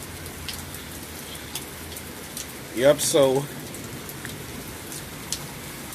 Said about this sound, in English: it's raining on my porch